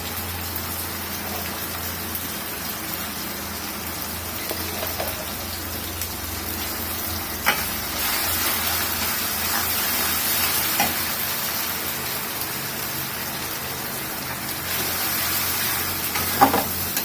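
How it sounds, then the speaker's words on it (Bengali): Dried chili paste sizzling as it goes into a hot pan, a steady close hiss and crackle like rain that holds through the whole stretch, with faint clinks now and then and no talking. "এটার ভিতরে এখন আমি শুকনো মরিচের যে পেস্ট আমি করেছি এটা এখন আমি দিয়ে দিব"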